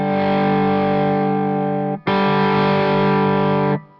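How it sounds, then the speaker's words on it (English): Electric guitar through a J. Rockett Dude overdrive pedal, two long sustained distorted chords, thick and loud, the first ringing about two seconds before a brief break and the second held until cutting off. "Really cool sounding overdrive, really versatile."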